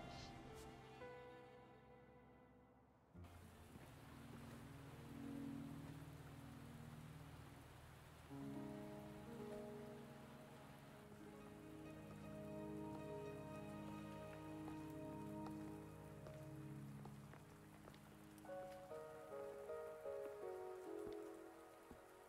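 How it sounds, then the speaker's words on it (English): Steady rain falls in the video game Wuthering Waves, a continuous wash of drops on surfaces beneath layered game music and tones throughout. "Are you trapped here by the rain?"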